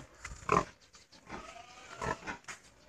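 A boar mating with a sow gives short grunts and snorts, a sharp squeal near the start followed by a few rougher grunting bursts, close by and fairly quiet.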